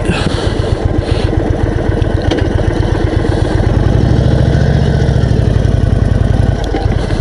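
A 2021 Indian Chief Dark Horse, a big custom cruiser motorcycle, idles close by with a loud, steady, throbbing engine beat that thickens slightly midway, with no voices.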